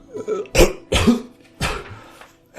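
A narrator's voice imitates a woman coughing, giving three or four harsh, close coughs at a steady pace with brief raspy throat sounds between them.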